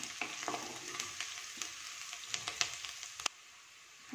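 Crushed garlic cloves fry in a pan to make kadhi, giving a soft, steady sizzle close by with light clicks of stirring. No one talks.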